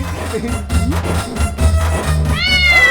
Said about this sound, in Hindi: अबे तो बिल्ली है।